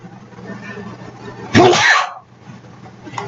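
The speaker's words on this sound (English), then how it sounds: "I am going to sneeze." A single loud, close sneeze bursts out over a quiet room hum, with a sharp onset and a brief trailing exhale.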